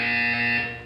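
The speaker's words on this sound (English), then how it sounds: "You will hear a buzzer." A loud, steady electronic buzzer in Portal 2 sounds as one continuous harsh tone for under a second.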